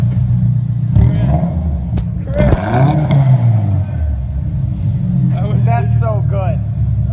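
Subaru Forester fitted with a Spec-D Tuning aftermarket exhaust, its engine revving with a deep, steady low rumble and rising throttle blips throughout, while people chat nearby over the exhaust note.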